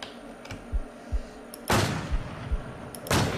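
A Blaser rifle fires in a video game, with two loud, sharp booming shots over quieter thumps and the background noise of the game.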